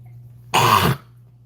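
A man gives a single harsh, close cough lasting about half a second, set against a low steady hum.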